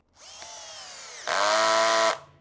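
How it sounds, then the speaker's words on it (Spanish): Multifunction cordless drill driver set to its highest torque drives a 5/8-inch screw: a steady motor whine steps up sharply to a louder, higher pitch midway, then cuts off abruptly, close and alone. "Ahorita vamos a poner un tornillo de una 5 octavos de largo"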